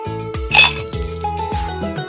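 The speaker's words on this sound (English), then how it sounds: "Drop in some ice cubes." Ice cubes dropping into a glass while making a raspberry drink in a kids' cooking game: a quick series of bright clinks and clatters, close and clear over a steady game music bed.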